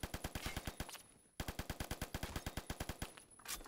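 M60 light machine gun firing in the Phantom Forces video game: two long bursts of rapid, evenly spaced shots, each burst of a dozen or more rounds with a brief gap between, loud and close with no talk.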